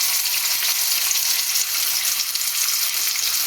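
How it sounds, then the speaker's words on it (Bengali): A large pomfret frying alone in hot mustard oil gives a continuous close crackling sizzle, steady and even with small pops, and no one talking. "আমি একটা একটা করে ভেজে নেব, যেহেতু মাছগুলো বড়"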